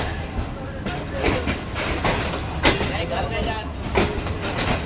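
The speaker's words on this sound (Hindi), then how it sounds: "जो कि ट्रैक की आवाज़ है" Wheels of the Shalimar Express between Karachi and Lahore clatter over rail joints in a steady rhythmic clickety-clack, loud and close from inside the moving train, with voices talking over it.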